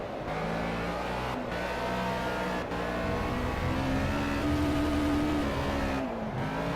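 A race car in the Project Cars video game drives continuously from an in-helmet camera view, its engine droning and revving with shifting pitch, with brief dips as gears change, and no talking.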